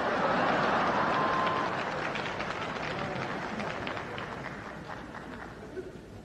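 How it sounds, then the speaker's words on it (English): A Lincoln Center audience at a 1981 concert claps in a dense patter that gradually thins and fades out. "Latecomers applaud."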